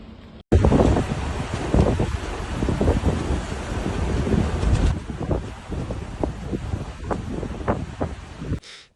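Strong storm wind gusting hard along the Dutch coast during Storm Poly, a loud, continuous roar with repeated buffeting surges of wind noise on the microphone and no voices.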